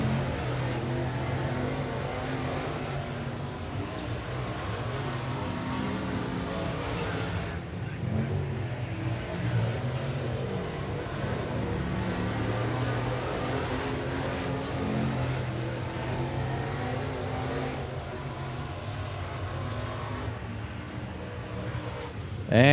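Late model race cars from the 604 class lap 411 Motor Speedway in a qualifying group, a steady loud engine roar filling the whole stretch with swells as cars pass and rev, no voices over it.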